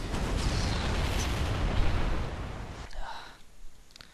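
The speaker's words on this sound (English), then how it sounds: "he's target firing the tanks" Artillery-style booms from siege tanks firing in a StarCraft match, a dense rumbling barrage that thins into a few sharper pops toward the end, with faint talk underneath.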